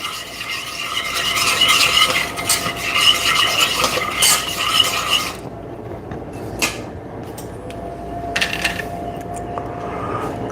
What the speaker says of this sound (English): see now it's boiling